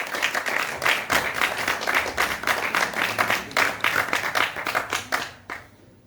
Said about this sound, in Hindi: जोरदार तालियों से प्रमाण दीजिएगा अपने होने का